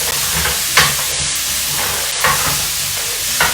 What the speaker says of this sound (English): Now add in the leek. And then stir fry for a bit longer.